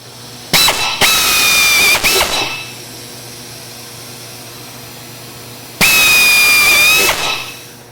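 A power drill whines and squeals through metal in two bursts, drilling pop-rivet holes, each lasting a second or two, separated by a quiet pause.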